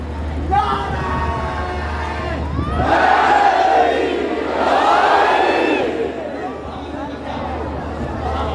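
A crowd at a religious gathering shouting a slogan back in unison, loud massed voices rising in two or three surging waves after an initial call, then fading.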